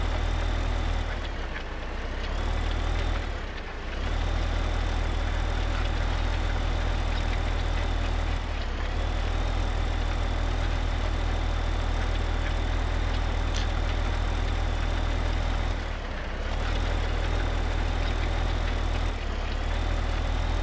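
Tractor pulling a small cultivator in Farming Simulator 15, a steady low idling engine drone with constant heavy rumble, briefly dipping a few times, alone without talk.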